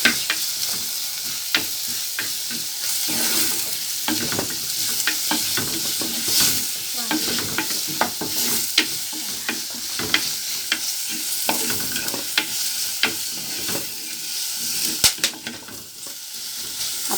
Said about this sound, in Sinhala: අමු මිරිස්, තක්කාලි මේ ටික දාලා මේ විදිහට හොඳට කලවම් කරගන්න.